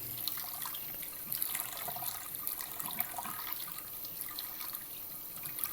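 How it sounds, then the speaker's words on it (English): Water hisses and sizzles on a hot non-stick pan as residue is scraped loose, a steady bright frying fizz with small crackles throughout. "Now with just a little bit of water, pretty much all scrapes up."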